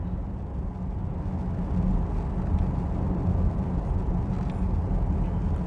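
A Mercedes EQE 43 4Matic electric car cruises along an evening road, giving a steady low rumble of tyre and wind noise inside the cabin at an even level throughout.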